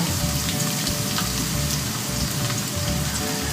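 Ginger frying in a hot wok while cooking Bicol Express, a dense continuous sizzle, close and loud, with no talking over it.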